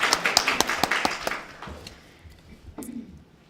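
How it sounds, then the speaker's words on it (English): A short burst of scattered hand claps from a small audience at a networking event introduction speech fades out within about two seconds, leaving quiet room tone. "Yes, a round of applause."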